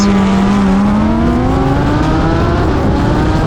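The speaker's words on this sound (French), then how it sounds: "Un très bon départ pour les deux motos" A loud engine roars steadily as a Kawasaki H2R and ZX14 superbike launch from a half-mile race start, pitch climbing smoothly as they accelerate hard, close and constant with no talking.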